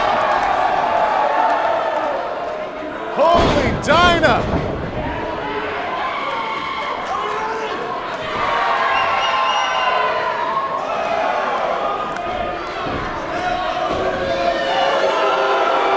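A packed wrestling event crowd at a Pure Power Wrestling show roars and cheers continuously, with a loud burst of shouting and whooping early on, while an announcer speaks over the noise.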